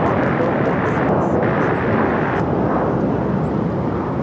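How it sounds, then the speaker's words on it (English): An Embraer E175 jet takes off from the south side of LAX, heard as a loud, continuous broadband engine roar that stays close and steady throughout. "Next takeoff here on the south side is American Eagle SkyWest Flight 6229 heading to Oklahoma City in an E175."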